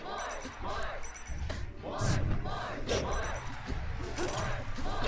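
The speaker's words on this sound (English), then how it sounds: "The crowd loves it." Crowd cheering and shouting at a Super Smash Bros. grand finals tournament match, loud bursts rising and falling over several seconds, mixed with sharp impacts and commentators talking.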